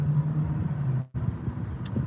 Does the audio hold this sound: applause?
no